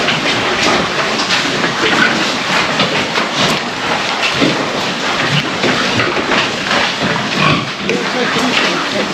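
A small pig in a farmyard squeals for food, loud, constant high shrieks and grunts filling the whole stretch, with a dense noisy wash behind them.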